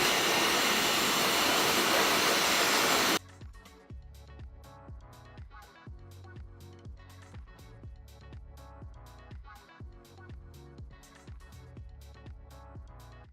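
A hair dryer blasts loudly on hair in a close, steady roar for about three seconds, then cuts off abruptly as rhythmic music takes over.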